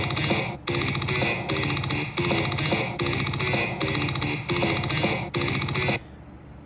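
A loud, dense mathcore drum beat loops steadily, with a punchy kick on the first beat and a snare on the second, repeating with short breaks before stopping.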